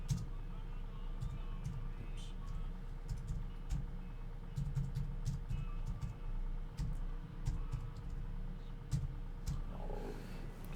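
Slow hunt-and-peck typing on a computer keyboard, with sparse, irregular single key taps spaced apart over a low steady hum, quiet and close.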